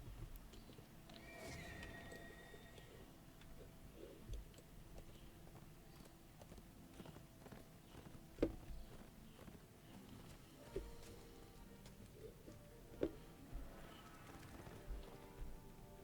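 Horse mount hooves in Dungeons & Dragons Online, a steady patter of soft clip-clop footfalls under a dense, rain-like background wash, with faint whinny-like tones and occasional sharper knocks.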